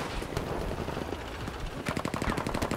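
Gunfire in Battlefield V: a run of sharp, distant-sounding shots with irregular spacing, then a faster, louder volley of rapid bursts near the end.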